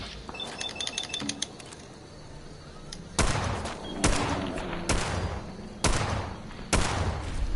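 Gunfire from an inaccurate gun in the video game Fallout: a series of sharp, loud shots spaced roughly a second apart, following a quieter stretch of ambient game sound with faint clicking.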